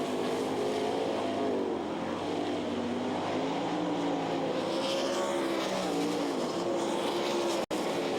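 Sprint cars race at the Knoxville Nationals dirt track, a dense sustained roar of several engines with rising and falling pitch as they slide through the turns, loud and continuous.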